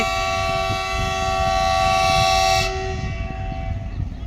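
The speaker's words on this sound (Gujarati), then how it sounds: "એમને હોર્ન વગાડી દીધો" A goods train sounds its horn, a loud sustained multi-tone blast close by that cuts off abruptly, leaving the rumble of the train rolling past.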